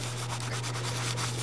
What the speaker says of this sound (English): A little bit of rust up here. And heck, we can pretty much just rub most of that off of there.